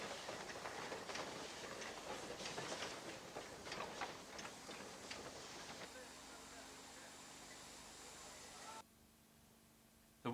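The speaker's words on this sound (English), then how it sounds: "On the steep gradients, the engines sound like express trains at speed" A Swiss-designed steam locomotive labours up a steep gradient, its hissing, chuffing exhaust heard faintly at a distance before the scene cuts to a quieter hum.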